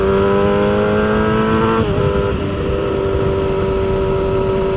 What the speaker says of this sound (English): And you hear the throttle drop off.